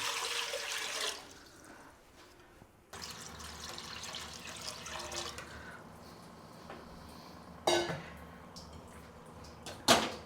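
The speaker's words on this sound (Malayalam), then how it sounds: "രണ്ട് ലിറ്റർ വെള്ളം ഒഴിക്കാം" Two litres of water pour into a pot on a lit stove before grapes go in, a sustained splashing gush followed by quieter trickling and a few sharp clanks near the end.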